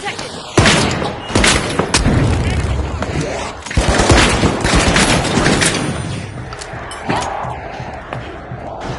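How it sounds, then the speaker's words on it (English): Loud grenade blast in The Finals amid a busy firefight, with repeated sharp bangs and thuds over several seconds, layered with gunfire and game voice lines. "Throwing big grenade"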